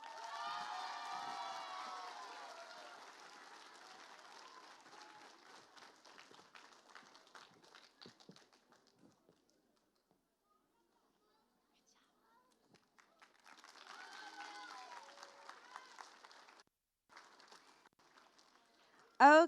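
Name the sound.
cheers and applause for a student award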